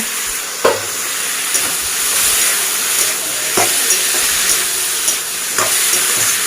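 Tomatoes stirred with a spatula in hot frying oil make a continuous loud sizzle, broken by a few sharp scraping strokes of the spatula every second or two. No voices.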